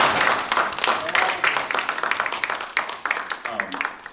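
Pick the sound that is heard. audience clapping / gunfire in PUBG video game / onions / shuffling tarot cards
audience clapping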